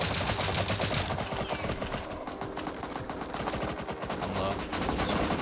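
AK rifle fire in the survival game Rust, rapid bursts of automatic shots crackling at moderate distance, several volleys overlapping in a busy firefight with brief gaps.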